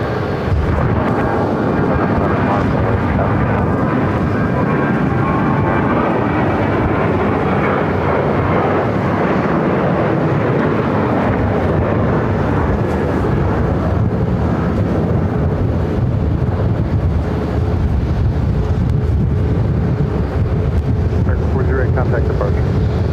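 A Boeing 737 airliner roars steadily on takeoff from Phoenix, a loud, continuous broadband jet rumble with wind buffeting the microphone throughout.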